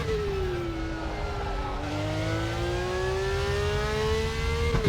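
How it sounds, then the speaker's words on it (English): A car engine in the racing game RaceRoom drones steadily at high revs, its pitch dipping and holding as if shifting, with no clear exhaust pops. "the most incredible shifting sounds, downshifting especially"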